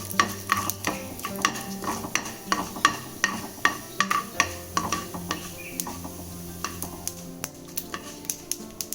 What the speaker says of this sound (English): Start sauteing your dal for 5 to 6 seconds till the dal starts changing its color.